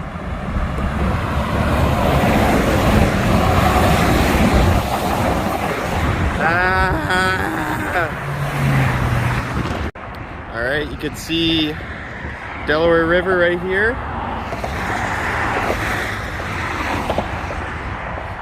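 Cars and large trucks rush past a few feet away on a busy road near the Delaware River at the Delaware Water Gap, a steady loud roar of traffic with someone talking over it.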